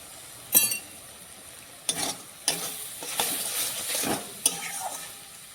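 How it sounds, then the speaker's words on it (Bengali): Potatoes fry in mustard oil in a pan, giving a soft, steady sizzle broken by several sharp scraping stirs of a spatula against the metal. "ভালো করে আলুটা ভেজে নেব"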